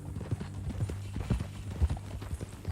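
Horse hooves clip-clop at a steady walking rhythm in Red Dead Redemption 2, close and moderately loud over a low ambient hum, with a voice briefly speaking.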